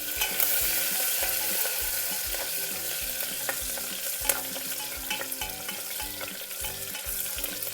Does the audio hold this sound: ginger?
yes